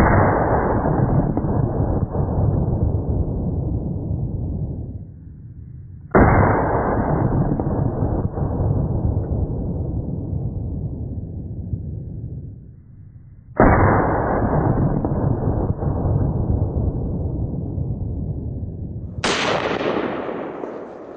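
A Colt 1911 MK IV Series 80 Government Model pistol fires four loud shots outdoors at dusk, spaced several seconds apart. Each shot is followed by a long rumbling decay.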